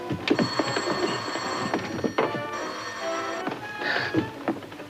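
An old telephone bell rings loudly in a vintage Laurel and Hardy comedy scene, rattling in repeated bursts that fill the whole clip with a bright metallic jangle.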